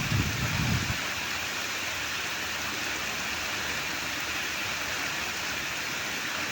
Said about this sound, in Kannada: ಎಷ್ಟು ಮಳೆ ಬರ್ತಾ ಇದೆ ಅಂದರೆ ಹೇಳೋಕ್ಕೆ ಆಗಲ್ಲ, ಅಷ್ಟು ಮಳೆ ಬರ್ತಾ ಇದೆ